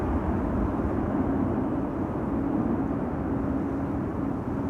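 An Airbus A321neo airliner arriving at Amsterdam Schiphol Airport, a steady broad roar with a low rumble and faint whine, heard from a distance and holding constant throughout, no voices.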